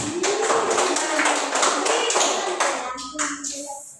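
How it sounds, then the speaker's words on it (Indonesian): Classroom clapping as a teacher has students applaud, a burst of brisk, fairly close hand claps from a small group that thins out toward the end, with a voice briefly heard as it fades. "Oke, kasih tepuk tangan dulu."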